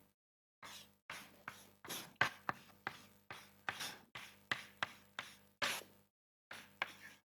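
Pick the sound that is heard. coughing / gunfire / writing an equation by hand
writing an equation by hand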